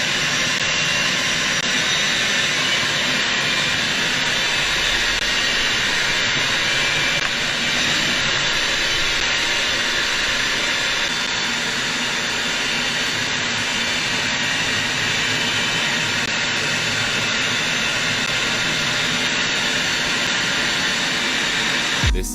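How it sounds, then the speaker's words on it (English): A fighter jet flies low between buildings at an air show in Australia, a loud, sustained roar that holds steady and close throughout without pause. "This fighter jet pilot was flying between buildings as part of an air show in Australia."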